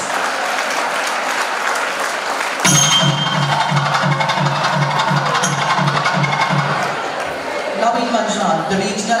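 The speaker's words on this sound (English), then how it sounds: "I request you all to please give him a big round of applause" Audience applause at a college Republic Day celebration, loud sustained clapping from a large crowd that starts abruptly and continues steadily, with a low hum and some crowd chatter beneath.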